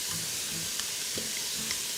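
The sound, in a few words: onions and celery sizzling in pan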